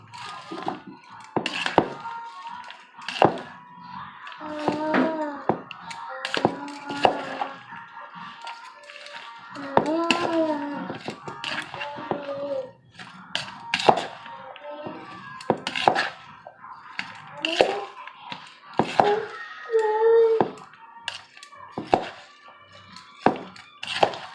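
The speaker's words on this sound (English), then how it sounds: "I like to take a pair of tongs and just mix it this way" Tongs toss fresh salsa ingredients around in a bowl, producing a steady run of light clinks, taps and wet knocks close by, irregular and busy throughout with no one talking.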